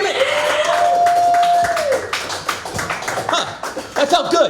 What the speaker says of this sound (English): Give Jordan Phipps another fucking round of applause